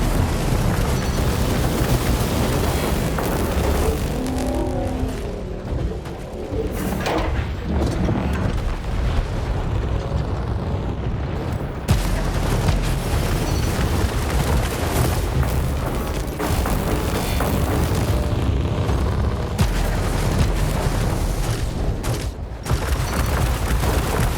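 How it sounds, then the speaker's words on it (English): A Titan robot firing missiles almost nonstop in the video game War Robots: Frontiers, a dense, continuous roar of launches and booming explosions that stays loud throughout without a break. "That's a Titan shooting missiles almost non-stop."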